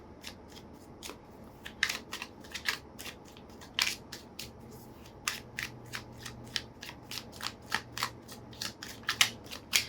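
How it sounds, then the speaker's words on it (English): Tarot cards being shuffled by hand, a rapid series of crisp riffling snaps and slaps repeating irregularly over ten seconds, close and fairly quiet against a soft background hum. "while I'm shuffling the cards"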